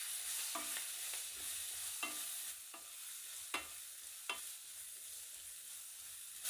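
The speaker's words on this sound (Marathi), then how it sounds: "मसाले तेलात परतले गेले की कापून घेतलेली सिमला मिरची ॲड करू" Chopped capsicum sautéing in spiced oil in a pan, a soft sizzle under repeated sharp scrapes and taps of a spatula against the pan, fairly quiet and close, with no talking.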